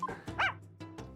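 Dog barking in the video game Apollo Justice: Ace Attorney, several short, clipped yaps and a whimper in quick succession, close and fairly quiet.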